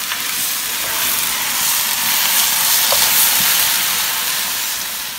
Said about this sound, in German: Jetzt ein bisschen anbraten lassen